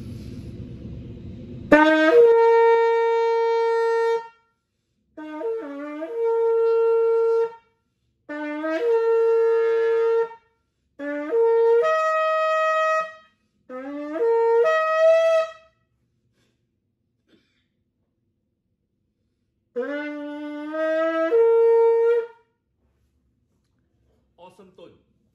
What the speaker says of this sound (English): this particular shofar has a certain unique sound you can hear